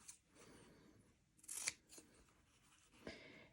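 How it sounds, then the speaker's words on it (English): Scissors snip through quilt fabric a quarter inch from a seam line on a dish mat block, a soft burst of cutting near the middle and another short snip near the end, close and quiet with no talk. "I'm going to trim them off 1/4 inch away from the seam line"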